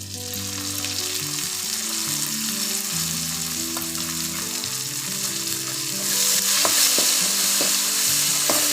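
Onions frying in hot oil for channa dal sambar, with garlic, coriander leaves and curry leaves in the pan; a steady, close sizzle runs throughout and grows louder near the end, with a few light stirring clicks.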